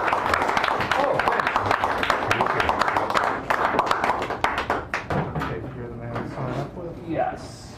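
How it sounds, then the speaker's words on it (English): An open mic crowd in a small San Francisco cafe applauds a performer, dense clapping that thins to scattered claps while people talk over it. "Give a warm round of applause for Connor."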